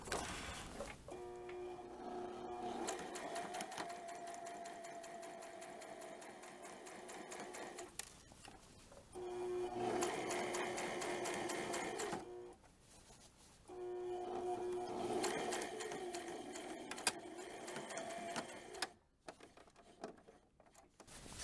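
A sewing machine stitches a bias strip and eyelet along the square neckline of a dirndl blouse in three long runs of close, steady rhythmic whirring, separated by brief pauses with fabric handling and small clicks.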